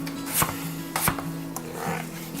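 A knife chopping russet potatoes on a cutting board for fried chicken, a few separate sharp chops spaced about half a second apart, close and clear.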